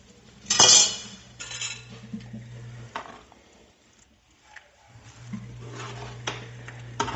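Spoon scraping and clinking in a pot while green onions are stirred into crawfish étouffée, a sharp clank at the start followed by intermittent scraping and soft stirring, with low hum underneath.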